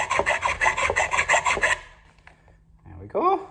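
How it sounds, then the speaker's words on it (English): Hand file rasping over the rough cut edge of a shortened unicycle seatpost, about ten quick rhythmic strokes close up, then stopping, followed by a brief clink and a short voiced sound. "give that a bit of a file. Take off any rough edges."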